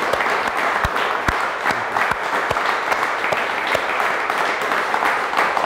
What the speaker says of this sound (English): Can we get a huge round of applause for my good man, Robert Scoble?